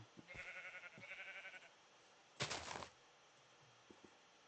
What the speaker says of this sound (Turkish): Şurada bir iki tane daha koyun var galiba